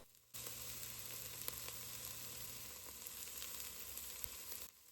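Yellow onion, minced garlic and bay leaves sizzle in a pot over medium heat, a continuous frying hiss with occasional light clicks of stirring, fairly quiet and unbroken.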